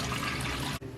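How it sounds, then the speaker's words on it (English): Cold tap water runs in a steady hissing stream over chicken and ribs being rinsed, loud and close, then cuts off abruptly near the end, leaving a quiet hum. "Cold water, we're gonna rinse it"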